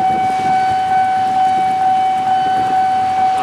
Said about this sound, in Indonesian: ini kereta apa nih yang melintas nih dari arah depan?